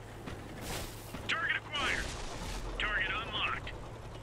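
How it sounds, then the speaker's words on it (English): Tank cannon shot from a Lowe in World of Tanks on Xbox 360, a tier 9 match: a broadband blast near the start, followed by game sound effects and a busy battle backdrop at moderate level. "Got a nice lucky shot on the turret of the IS-3."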